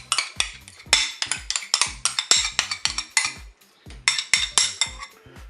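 A utensil scraping and clinking against a bowl while sauce is mixed into a rice and chicken salad, a quick series of bright, close strikes and scrapes with a short pause midway, without talking.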